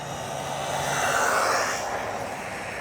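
Losi NASCAR RC car with a brushless motor on a 3S battery on a speed run: a loud, high electric whine swells as it races close by, then fades away.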